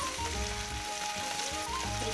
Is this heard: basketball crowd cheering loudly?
no